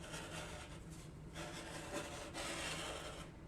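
Scissors cut a cotton t-shirt into one-inch strips for yarn, a faint, continuous rasping and rubbing of fabric close by, without speech.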